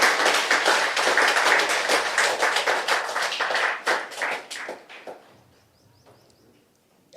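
A live audience at a devotional speech event breaks into loud, dense applause that holds for several seconds, then thins into scattered claps and fades to near silence.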